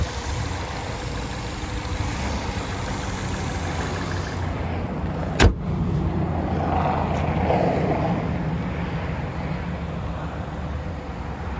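A 2014 Ford Fusion SE's 4-cylinder engine idles steadily with a broad, even hum throughout, broken by one sharp click partway through; no one speaks.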